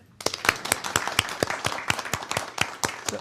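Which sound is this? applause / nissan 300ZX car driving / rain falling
applause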